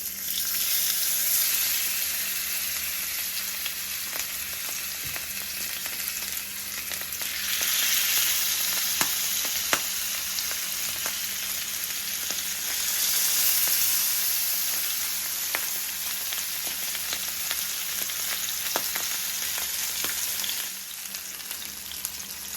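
Salmon steaks sizzle in hot olive oil in a cast iron skillet, giving a loud, steady frying hiss that swells twice. Scattered clicks and pops run through it, and no voices are heard.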